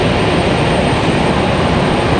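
Icelandair airliner at Raleigh Durham airport at night, its engines a steady, loud broadband roar with no break, alone and without voices.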